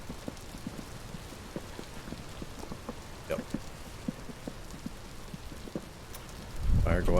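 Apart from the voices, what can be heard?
rain falling in the video game Vintage Story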